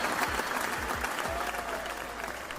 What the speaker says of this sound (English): Y'all give it up for Mary J, man. Give it up, everybody. Clap it up.